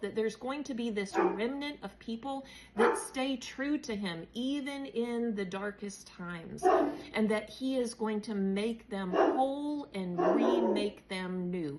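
A dog barks intermittently in the background while someone speaks continuously over it, the barks faint and partly masked by the talk.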